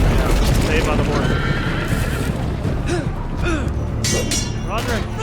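A horse in a Game of Thrones Telltale video game whinnies loudly several times, with clip-clop hooves and thuds from the game scene, while people talk over it.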